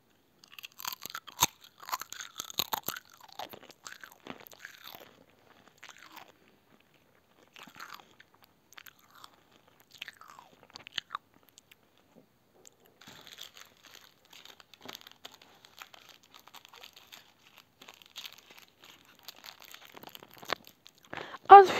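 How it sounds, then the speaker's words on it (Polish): Crunchy potato chips eaten close to the microphone in ASMR style, with sharp crunches, bag crinkling and chewing scattered through long quiet stretches, and soft talk in places. "Mamy chipsa."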